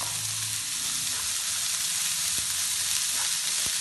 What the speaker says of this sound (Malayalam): നന്നായി വഴറ്റിയെടുക്കുക